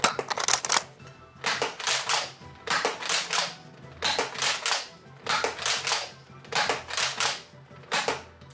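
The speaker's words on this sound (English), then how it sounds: "let's at least give it a shot using half-length darts" An X-Shot lever-action toy blaster fires half-length darts in a steady run of about seven loud, close, snappy bursts, each shot with rattling mechanical clatter from cycling the lever, and short pauses between shots.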